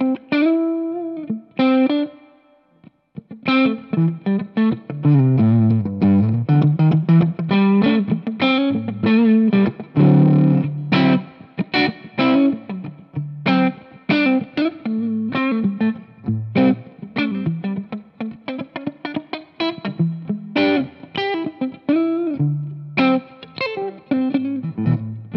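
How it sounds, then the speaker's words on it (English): A distorted electric guitar plays a melodic line through a Laney Lionheart L5 Studio Class A amp, notes ringing out with a wet, spring-like reverb tail. "So natural, like a really natural kind of spring sound reverb"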